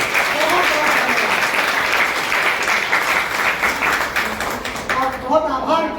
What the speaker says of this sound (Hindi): समस्त छात्रों की ओर से जोरदार तालियां बजनी चाहिए।